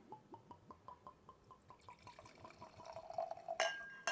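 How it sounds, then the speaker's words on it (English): Old Forester 1920 bourbon whiskey pours into a tall glass in a steady glugging stream of regular pulses, rising in pitch as the glass fills, ending with a brief clink. "Nice healthy pour there."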